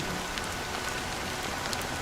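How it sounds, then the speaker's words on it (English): Steady rain falls in the Honkai: Star Rail video game, a dense, even hiss of drops hitting surfaces that continues without a break and with no voices. "But it's still raining"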